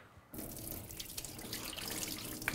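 Water is poured out of a removed prefilter bowl from a GX300 generator during filter replacement, a close splashing trickle that starts abruptly and runs steadily, with no talking.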